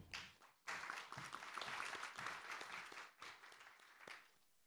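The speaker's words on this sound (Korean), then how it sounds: "큰 박수 부탁드립니다." An audience at a political policy symposium in Korea bursts into applause to welcome a speaker to the podium. The clapping starts abruptly, stays dense, then thins and fades out, sounding distant in a low-level recording.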